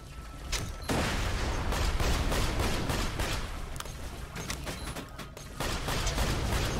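A grenade blast and sustained gunfire in Borderlands 2 form a loud, dense, continuous barrage of rapid shots and booms, with no talk over it.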